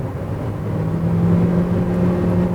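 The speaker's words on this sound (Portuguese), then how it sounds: "Você percebe um pouco o barulho do motor invadindo aqui o habitáculo." A steady engine drone with a rising low hum builds continuously under hard acceleration, heard from inside the car's cabin, moderately loud with no talking.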